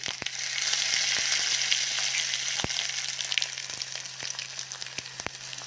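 Cumin seeds and dried red chili fry in hot oil with blackened fenugreek for a potato and cucumber pickle tempering, making a close, bright sizzle broken by scattered sharp crackles and pops.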